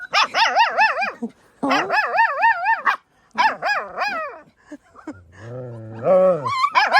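A dog barks in several quick bursts of yips and howling whines, close by. A lower moaning whimper sounds between the later bursts.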